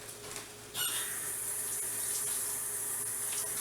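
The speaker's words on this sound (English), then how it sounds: "I like to rinse my onions." Running tap water rinses onions in a kitchen, starting abruptly with a steady, moderately loud rushing stream that continues evenly.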